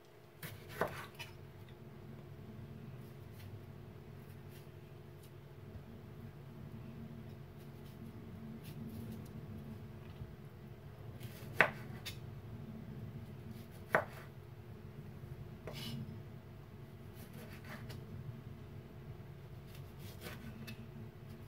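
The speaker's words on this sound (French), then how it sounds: "Je vais couper les tomates." A knife chops tomatoes on a board in quiet surroundings, with only a few scattered sharp taps over a low background hum.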